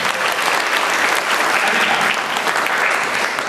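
A school audience at a student motivation training session claps steadily and densely for the full stretch, a loud, even wash of many hands with no voices standing out.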